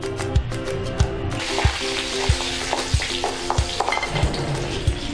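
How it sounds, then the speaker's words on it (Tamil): Mustard seeds, urad dal, cumin and curry leaves sizzle and crackle in two spoons of hot oil for a South Indian tempering, with a steady fry hiss and regular spoon taps against the pan, close up and without talk. "தாளிக்கிறதுக்கு 2 ஸ்பூன் எண்ணெய் விட்டுட்டு கடுகு, உளுந்தம்பருப்பு, சீரகம், கருவேப்பிலை 2 ஸ்பூன் எண்ணெய் விட்டுறேன்."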